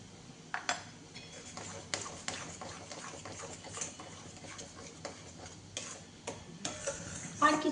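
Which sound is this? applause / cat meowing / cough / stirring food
stirring food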